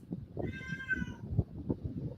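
A house cat gives one clear, drawn-out meow over faint room noise, with soft low thumps and handling sounds around it.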